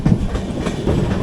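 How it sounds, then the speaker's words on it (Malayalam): A long-distance superfast train rolls into Mangalore Junction station, a loud, close rumble of wheels and carriages with rhythmic clickety-clack over rail joints. "മംഗലാപുരം ജംഗ്ഷൻ സ്റ്റേഷനിലേക്ക് കയറാണ്."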